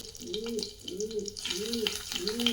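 Cumin and ginger-garlic paste frying in hot ghee for dal fry, a crackling sizzle under a voice that speaks throughout in short rhythmic phrases.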